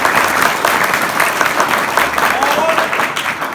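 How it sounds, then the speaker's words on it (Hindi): Loud applause from an audience for a guest at a student service gathering, a thick, continuous patter of many hands close up, steady for several seconds before easing slightly at the end. "एक बार जोरदार ताली बजाओ सर"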